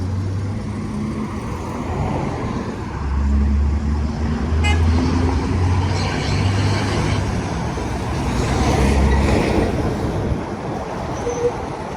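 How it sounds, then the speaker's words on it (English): Vehicle idling and rolling behind a scooter on Lehigh Avenue, Philadelphia, with a low engine rumble that swells and fades over steady street traffic noise, plus a brief horn-like tone midway. "I got a vehicle behind me."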